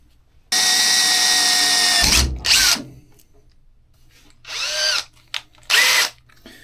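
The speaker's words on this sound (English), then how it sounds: "hit it with the drilling tap" A power drill drives a drilling tap through a pipe wall, first as a loud, steady whine of about a second and a half. Then come shorter bursts and stop-start pulses with quiet gaps between them, close by.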